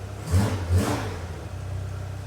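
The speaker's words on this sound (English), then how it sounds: "It sounds really good. Great throttle response." A Chevrolet S-10 truck engine, freshly tuned up, gives two quick throttle blips in close succession. Each rise is short and punchy, and the engine settles back to a steady idle afterwards, with no talking over it.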